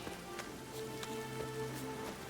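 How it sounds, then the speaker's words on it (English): Steady rain in The Witcher 3 patters on a surface, with scattered louder drops over a soft continuous hiss. "Raining fucking buckets."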